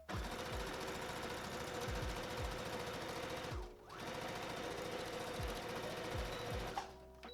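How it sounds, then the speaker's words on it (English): Sewing machine stitching along the bottom fold of a sundress to form a fabric casing, a steady fast mechanical whir with rhythmic needle thumps that runs close and continuously, with a brief pause partway through. "now I'm going to sew along the bottom of this fold all the way around to make a casing"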